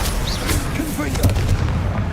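A Confringo blasting spell in Hogwarts Legacy erupts as a dense, booming burst of explosive cracks and rumbles, loud and close, with a voice briefly audible in the mix.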